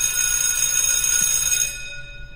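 A bell rings with a bright, sustained metallic tone on a talk show, holding for over a second before fading out, with no voice over it.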